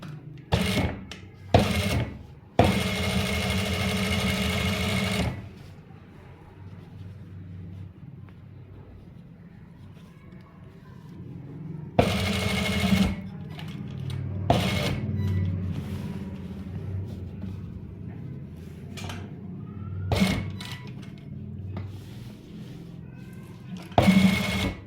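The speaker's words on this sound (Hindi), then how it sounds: "ये बैक पैनल पे आप कॉर्नर की सिलाई लगा सकते हैं" Sewing machine stitching the corner of a trouser back panel, in bursts of steady whirring separated by short pauses and a longer quiet stretch, with faint room noise between runs.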